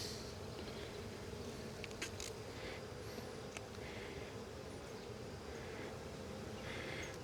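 Honey bees buzz steadily throughout an open hive inspection, a continuous, fairly quiet, dense hum from many insects close by, with no talking.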